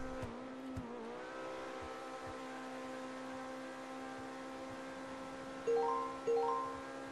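A car's engine in GTA V holds a steady droning tone, then revs up twice in quick bursts near the end, loud and close with no talk.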